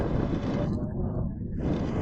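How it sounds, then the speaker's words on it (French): Strong wind gusting outdoors and buffeting the microphone, a loud, steady low roar that eases briefly mid-way before surging again. "Il y a beaucoup de vent aussi."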